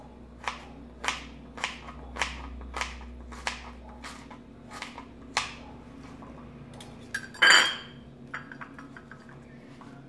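A knife chops apples in a bowl with a series of sharp, evenly spaced clicks, about one every half second, then pauses before a louder clatter and a few more scattered taps.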